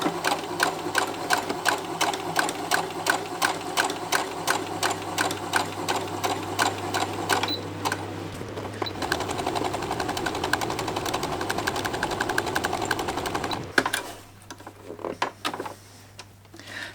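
Sewing machine stitching hessian fabric coasters, a steady rapid mechanical whirr with a brief slower stretch and a stop near the end, loud and close with no talk.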